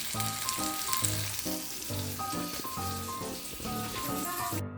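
Hot oil sizzles with a tempering in a continuous crackling hiss, under a steady background of music.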